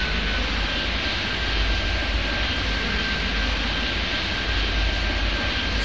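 An airplane taking off from runway 15 at Toronto Island in the game Airport Madness 3D, a loud steady engine roar with a thin whine on top, unbroken throughout.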